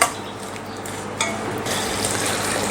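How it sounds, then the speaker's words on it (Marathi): Jaggery methamba syrup bubbles and sizzles in a pan as it is stirred, a close, steady frothy hiss with a few soft scrapes of the spoon and no talking. "थोडासा दाटसर किंवा घट्ट किंवा एक तारी पाक होईपर्यंत आपण हे हलवून घेऊया किंवा शिजवून घेऊया"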